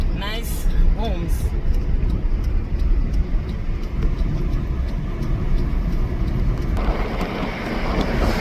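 Car driving through suburban streets of Harare past homes, a steady low engine and road rumble continuing throughout with a brief whine near the start, and talk over it.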